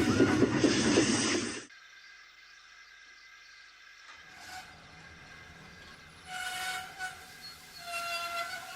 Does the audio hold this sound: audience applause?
no